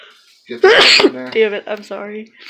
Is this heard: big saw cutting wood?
no